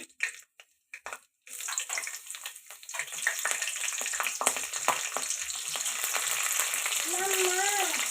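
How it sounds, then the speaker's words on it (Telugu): Cardamom and cloves fry in oil in a pan for chicken masala curry; after a few quiet gaps with faint clatter, a steady crackling sizzle builds and holds, with a brief high chirping squeak near the end. "ఇప్పుడు ఫ్రై అవ్వాలండి"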